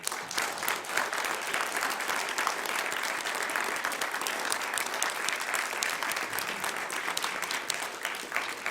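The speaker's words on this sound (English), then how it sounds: "How about a round of applause for our speaker?" A seated audience at a Q&A with former NSA official Thomas Drake breaks into dense, sustained applause, with even clapping filling the room at a steady level for the whole stretch.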